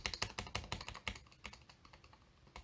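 Keys clack steadily on a Zoom65 mechanical keyboard with PE foam, a fast run of close, crisp strokes with slightly poppy, marbly presses, heard alone without talk.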